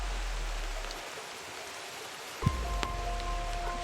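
Heavy rain pours steadily as a dense, even hiss, close and loud throughout, with a brief bump and faint tonal hum near the end.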